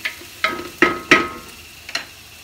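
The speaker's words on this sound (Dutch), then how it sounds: "Ik heb mijn olie warm gemaakt. Daar voeg ik de uien aan toe. Die doen we een beetje bakken." Onions fry in hot olive oil, heard as a few quiet sizzling bursts and stirring scrapes spaced about every half second, close and alone without talk.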